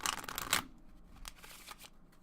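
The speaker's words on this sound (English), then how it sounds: "Shuffle the cards." A quick riffle of playing cards being shuffled close by, a bright flutter followed by softer taps and shuffles.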